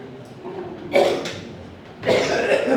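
Two harsh coughs a second apart, close and loud, over a quiet background.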